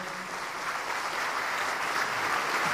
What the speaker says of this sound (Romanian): Aplauze pentru orchestră.